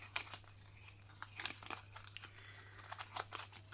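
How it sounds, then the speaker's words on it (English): Playing cards shuffled by hand while sorting a UK cash-stuffing budget, giving short crisp riffling and flicking bursts in quick irregular succession, close and fairly faint, with no talking over them. "I'm going to give them a little shuffle."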